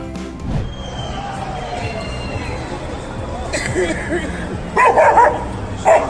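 A dog guarding an unconscious man barks in a few short bursts near the end, mixed with crowd noise and under steady narration.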